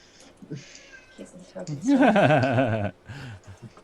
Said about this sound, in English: Your cat wants out.